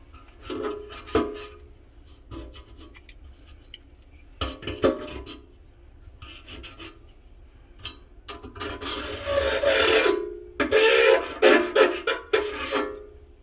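Residue scraped off a metal sink flange with a knife or steel wool during a garbage disposal installation, giving intermittent rasping and scratching strokes that build into louder, denser scrubbing bursts near the end, close up with no talk.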